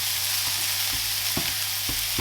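Bacon and a burger patty for a homemade Carolina Whopper sizzle in a pan, a steady bright hiss with a few soft bumps of stirring or shifting, close and alone.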